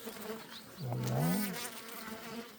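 Honeybees from a newly captured swarm buzz around an open hive, one bee passing close with a rising and falling drone over a busy, faint hum of many others.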